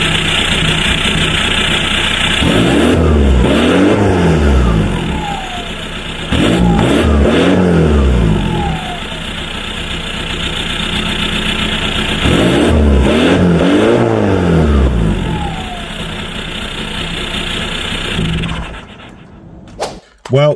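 A VW Passat B3 with a PD150 diesel engine and a straight-pipe exhaust revs hard in repeated bursts, each surge climbing and falling back to a rough idle, loud and close throughout.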